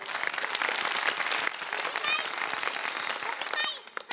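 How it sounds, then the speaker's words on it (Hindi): A studio audience at a children's segment of a Ramadan iftar TV show applauds in a steady, dense wash of clapping. The applause is moderately loud and continuous, with faint children's voices and cheers mixed in near the end. "शिराज के लिए तालियां बजा दें एक दफा आप बहुत सारी।"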